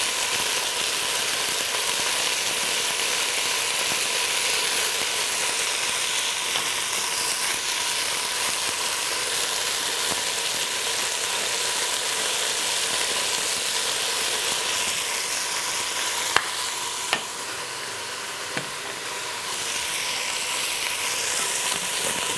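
Salted and peppered beef pieces sear in a hot pot for goulash, giving a loud, continuous sizzle that holds steady, with a few sharp clicks from stirring near the end.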